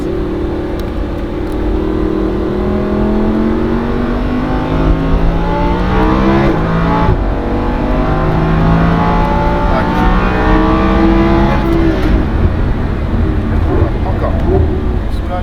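A Lamborghini Huracan on the Le Mans Maison Blanche circuit revs high and loud through repeated rising and falling engine sweeps from inside the car, with a voice talking over it.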